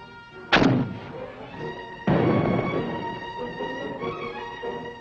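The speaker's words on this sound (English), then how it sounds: "In engineering development is a grenade launcher which attaches to the standard M16 Army rifle." A grenade launcher attached to a standard M16 Army rifle fires twice, each a sharp, loud report about a second and a half apart, followed by a ringing decay.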